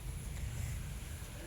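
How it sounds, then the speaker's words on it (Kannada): Strong wind gusting outdoors on an evening before rain, a steady low roar with heavy microphone buffeting throughout, loud and continuous, with no other clear sound over it. "ಮಳೆ ಬರೋ ಥರ ಇದೆ, ತುಂಬ ಗಾಳಿ ಬೀಸ್ತಾ ಇದೆ ಹೊರಗಡೆ"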